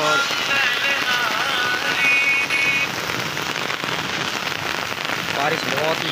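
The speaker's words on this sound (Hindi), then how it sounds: "बारिश बहुत ही ज़्यादा तेज़ हो रही है।" Heavy rain pours down steadily, loud and close, with raindrops drumming on surfaces and a faint voice murmuring under the downpour.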